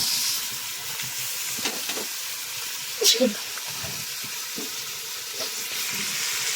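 Meat frying in a pan for kebab, a low steady sizzle and hiss with a few soft stirring knocks and a brief scrape near the middle.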